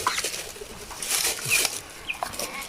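Broiler chickens and a rooster cluck and squawk close by in short bursts, with occasional wing flapping and scattered bird noises, no talking.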